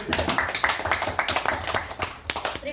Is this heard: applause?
yes